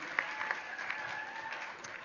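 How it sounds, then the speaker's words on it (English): Applause at an E3 Africa 15th anniversary event in Phoenix, Arizona, after a mock auction sale: brief, fairly faint clapping from a crowd with a few sharper claps and a thin tonal hum beneath. "Give her a round of applause"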